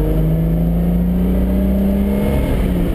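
A 1976 Triumph TR6 engine drones steadily at about 4,000 rpm while cruising down a highway, with a loud, smooth, close hum and only a slight rise in pitch.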